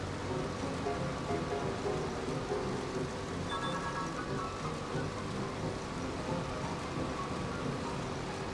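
Steady rain falls in Farming Simulator, a soft, continuous hiss of drops on surfaces with a faint low rumble beneath, no voices.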